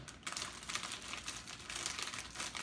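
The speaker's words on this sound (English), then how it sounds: "Open the bag up." A plastic bag of pizza toppings crinkles and rustles steadily as it is pulled open by hand, close and fairly quiet, with no voices over it.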